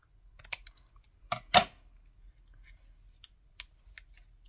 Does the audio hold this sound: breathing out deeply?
no